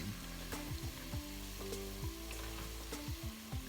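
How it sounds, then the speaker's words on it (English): Onion and garlic sautéing in a pan with stew meat, a steady sizzle under a low hum that is broken by repeated rhythmic scraping strokes of stirring. "We're going to saute the onion and the garlic for 5 minutes."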